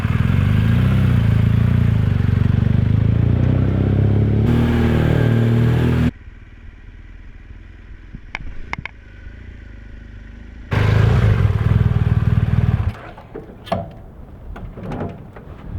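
A 2016 BMW R1200GS Adventure fitted with a Givi XS306 tank bag is ridden around the block, its engine loud and close, dropping to quiet idle-like stretches with clicks and clatter before revving up again.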